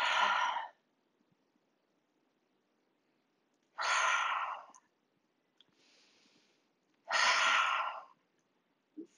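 Three long, audible exhales during a yoga flow, each a breathy whoosh lasting under a second, spaced a few seconds apart, close and fairly loud, with a faint soft rustle in between.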